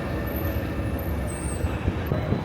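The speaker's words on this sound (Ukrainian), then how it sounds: "Трамвай уїжджає просто з-під носу." A tram pulls away along a Milan street, a low continuous rumble of wheels and motor with a brief high squeal, heard at close range amid city traffic noise, without talking.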